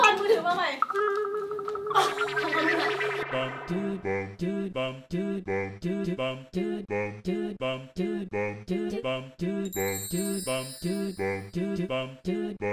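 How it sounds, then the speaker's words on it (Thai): A mobile phone ringtone plays loud and close, a repeating electronic melody that fills the clip in a steady rhythm, with brighter chiming notes joining near the end; a brief burst of voices and noise comes at the start. "ลิงโทนของมือถือ"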